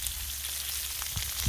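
Bacon frying on a Blackstone griddle, a soft, steady sizzle with faint crackles and a couple of small pops near the end, with no talking.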